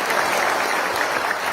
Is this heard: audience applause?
yes